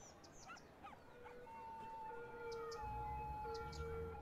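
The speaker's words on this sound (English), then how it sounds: "I can hear a fire ambulance." In the city-building game Cities Skylines, a fire ambulance siren wails as a faint, steady tone, with bird chirps and ambient city noise around it and a low rumble joining near the end.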